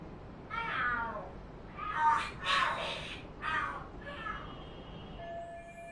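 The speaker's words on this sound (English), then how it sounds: "Are there cats fighting?" Cats fighting and screaming in the video game Lost Judgment, a run of harsh, wavering yowls and screeches rising in several bursts, fairly close and loud, with no talk over them.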